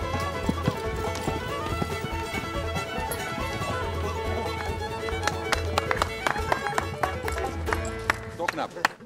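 Horse hooves clip-clop steadily during a show-jumping training session with celebrity riders, a close, busy rhythm of strikes under continuous background voices and crowd noise.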